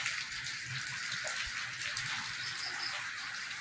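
Steady rain pours outdoors over a vegetable garden with string beans and okra by a fence, a dense continuous hiss with scattered drops, close and fairly loud throughout.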